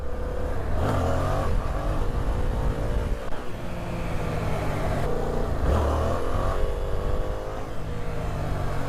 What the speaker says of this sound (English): at second gear at 30 miles an hour, I do 2/3 of the throttle. I twist the throttle 2/3.